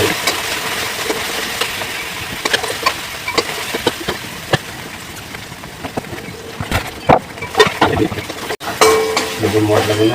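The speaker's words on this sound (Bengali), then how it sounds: "এই মশলাটাকে একটু ভাজা ভাজা করে নিতে হবে, তাহলে ভালো হবে।" Spice paste frying in a pan for a curry with potatoes and taro, a continuous loud sizzle broken by repeated scraping and clattering strokes of stirring.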